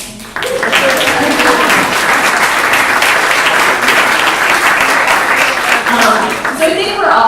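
Audience applause for a film panel fills a room, steady and dense for several seconds with a few voices faintly under it before fading at the end.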